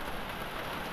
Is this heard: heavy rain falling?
yes